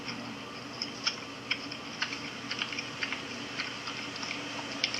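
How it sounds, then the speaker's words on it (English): Crunchy, close-up chewing while a painter eats breakfast, a steady series of sharp little bites and crunches repeating every half second or so over a faint background hum, with no talk. "Some people are going to hear me chew."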